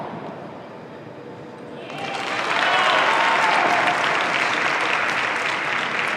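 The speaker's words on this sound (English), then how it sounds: "You can hear the cheer there from the crowd for Alvarez." A large crowd at a padel match on center court bursts into loud cheering and sustained applause that swells after a quieter start and stays strong, heard from a distance.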